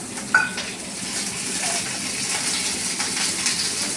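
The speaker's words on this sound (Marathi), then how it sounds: "जरा त्या भेंडीत तेल टाकायचं नाही का?" Okra frying in oil on a very hot griddle for masala bhindi gives a soft, steady sizzle, with a brief metallic clink of a utensil near the start. No one talks.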